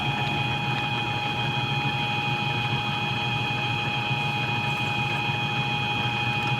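A machine drills a 1/4 inch primer hole at low RPM, giving a steady droning hum with sustained whining tones that stay constant throughout.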